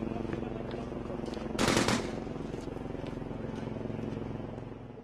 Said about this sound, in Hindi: करीब 2 घंटे बाद एक बार फिर गोलियां चलने लगी। जल्द ही फायरिंग और तेज हो गई।